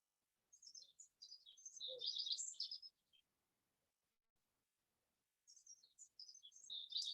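Birds chirp in quick, bright bursts of high tweets, close and fairly clear, in two clusters separated by a few seconds of stillness.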